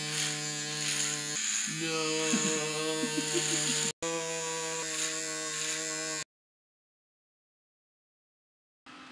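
An electric shaver buzzes steadily while shaving off a beard, a close, loud motor drone that shifts pitch as it presses against the hair, breaks off briefly, then stops, with a short spoken word partway through.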